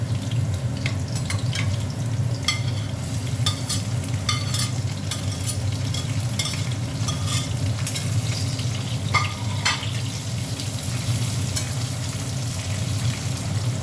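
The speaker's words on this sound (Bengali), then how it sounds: "পেঁয়াজটা একটু ভাজা হোক।" Chopped onion fries in hot oil in a pan with a steady crackling sizzle, while a spatula scrapes and stirs in irregular clinks and scuffs close by.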